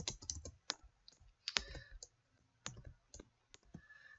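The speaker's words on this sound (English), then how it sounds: "public typing is the worst." Quick bursts of keystrokes on a computer keyboard, close and crisp, with irregular clusters of taps separated by short pauses and no talk over them.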